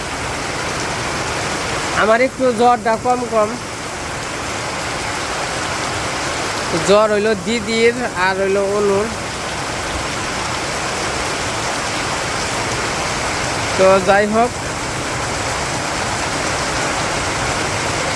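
Steady rain pours down in a village, a continuous wash of hiss throughout, while someone speaks in short bursts over it.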